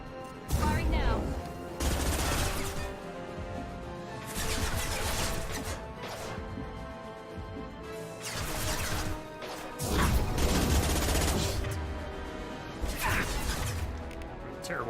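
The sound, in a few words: weapon firing in Mass Effect 2 video game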